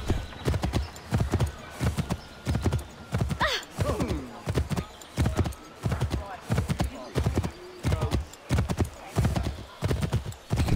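Horse hooves clip-clop in a steady, repeating gallop rhythm while riding in circles in Assassin's Creed III, loud and close, with a brief whinny and someone talking over it.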